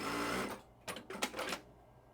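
Juki DDL-9000C industrial sewing machine stitching, a steady whirring run that cuts off, then a few quick mechanical bursts as the thread tail is tucked away; close and fairly quiet, no voices.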